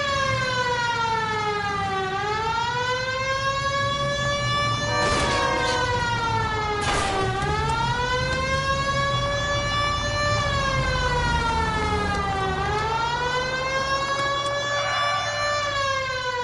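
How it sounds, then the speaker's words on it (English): A police car siren in the 1940s-set video game LA Noire wails in slow rising and falling sweeps, loud and continuous over low engine rumble, with no talking. "Why don't you use the siren?"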